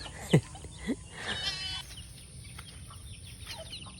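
Chicks cheeping near a hut on a rural property, a couple of sharp high peeps early on followed by softer scattered chirps over faint background noise.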